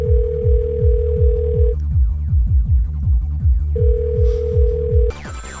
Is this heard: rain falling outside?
no